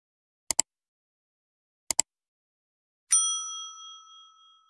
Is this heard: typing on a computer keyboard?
no